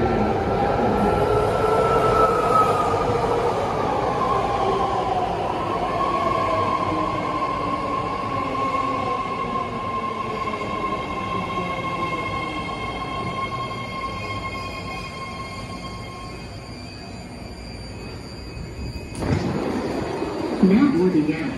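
A BART Orange Line Fleet of the Future subway train to Berryessa rolls into a platform with a rising and falling whine and rumble, steady and loud, with a sharp clank near the end as it stops; people talk faintly.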